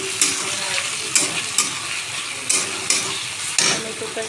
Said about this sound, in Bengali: এবার এর মধ্যে দিয়ে দিচ্ছি আমি টমেটো কুচি।